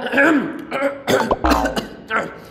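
A person coughs and clears their throat a few times in short, rough bursts, close to the mic and fairly loud.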